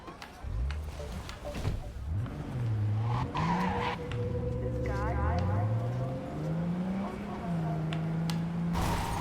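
A car in the video game Cyberpunk 2077 drives and skids, its engine pitch swooping up and down with squealing tire slides, loud and close, while a voice talks over it.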